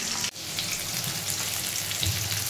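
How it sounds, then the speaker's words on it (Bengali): Sliced onions fry in hot oil with cumin seeds in a thin, worn wok, giving a dense, close sizzle that runs steadily after a brief dropout near the start. "তেল দেওয়ার পর জিরে ফোড়ন দিয়ে এই পেঁয়াজটা ভাজা হচ্ছে"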